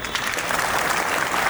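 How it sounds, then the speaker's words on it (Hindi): Steady, dense applause from an audience at an Independence Day event at Chandigarh International Airport, a continuous close wash of clapping throughout. "जोरदार तालियों से एक बार शोर कर दीजिए"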